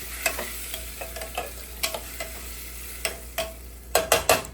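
Pumpkin soup stirred in a pan, a spoon scraping with scattered soft knocks and a faint sizzle, ending in a quick cluster of louder scrapes.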